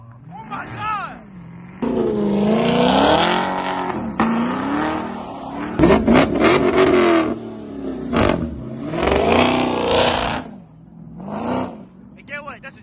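A Dodge Hellcat Jailbreak revved hard at a mansion car meet, loud close bursts of roaring throttle rising and falling over several seconds, with excited voices talking in the background.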